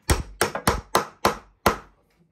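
Hammer tapping on wood while assembling a fairground high-striker (ring-the-bell) game: six sharp, close knocks in an uneven rhythm, the last after a short pause, with no talking.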